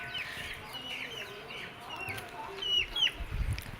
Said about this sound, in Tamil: கோழி குஞ்சு இருக்கு என்ன இது என்னை பார்த்துன்னு கொத்தவை வருது